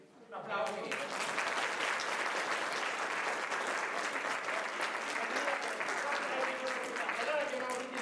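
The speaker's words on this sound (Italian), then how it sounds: "Un applauso." Sustained applause from a theatre audience at an amateur dramatic company's show, starting abruptly and holding steady and dense for several seconds, with occasional faint voices mixed into the clapping.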